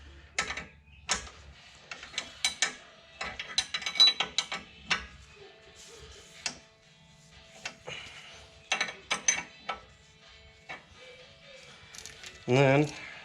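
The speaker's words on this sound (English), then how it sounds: "I'm gonna go ahead and tighten this all the way down" A fitting is tightened all the way down during a third-function install on a Rural King RK55 tractor. Quiet, irregular metallic clicks and ratcheting come in scattered bursts, ending in a quick rattling run.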